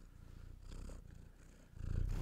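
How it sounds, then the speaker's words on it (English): A cat purring steadily at close range, a soft continuous rumble that swells louder toward the end, with no voices over it. "you can't usually hear her when she's purring"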